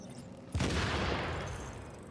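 Turret firing in a shooter video game, a sudden loud burst of rapid gunfire that starts after a short lead-in and sustains as a dense, close barrage before tapering slightly.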